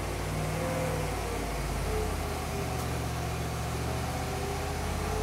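A fuel-injected 1957 Pontiac engine runs on a dynamometer during a pull, a loud, steady, dense roar with a low droning hum underneath, continuous throughout.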